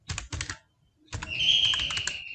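Java code is being typed on a computer keyboard: two short bursts of close, crisp key clicks, a pause, then a longer steady run of keystrokes with a thin high tone behind it.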